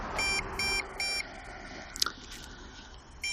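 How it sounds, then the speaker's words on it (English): A drone's remote transmitter beeps for low battery: three short, evenly spaced electronic beeps, then a brief gap with a small click and faint handling noise, then a fourth beep starts, heard close and alone in a quiet room. "the transmitter's still beeping at me"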